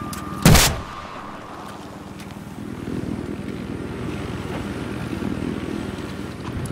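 Helicopter flying in a video game, a steady rotor rumble building and continuing after a sharp loud bang near the start.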